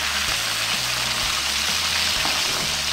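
Shrimp with butterflied backs sizzle steadily in a hot pan while being stirred and flipped over, a continuous close frying hiss with soft scraping turns and no talking.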